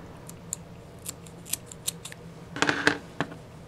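Scissors snip crochet yarn in a quiet room, a handful of short, light clicks spread out, then a quick cluster of louder, crisper cuts near the end.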